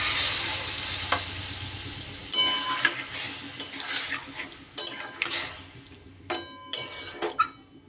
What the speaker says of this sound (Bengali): এইবার আমি এর মধ্যে দিয়ে দিচ্ছি অল্প পরিমাণ জল